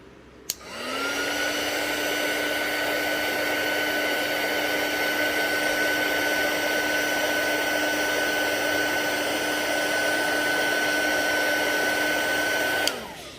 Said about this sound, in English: The heat gun is going to be a bit loud.